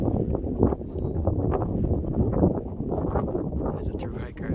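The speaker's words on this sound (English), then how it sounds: "Gusty winds." Gusty wind roars steadily across the microphone on the summit of Mount Moosilauke at 4,802 feet, a loud, continuous rush that swells and eases throughout.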